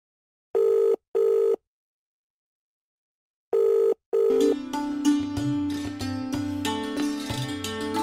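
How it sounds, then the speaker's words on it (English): A telephone rings in two short double bursts, loud and close, followed by a tonal musical passage with steady notes; no talking. "Ever notice the mobile phone vibrating when it rings?"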